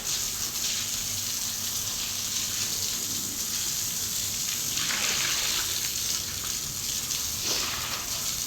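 Water pours steadily into a birds' drinking dish outdoors, a continuous close splashing gush with no talk.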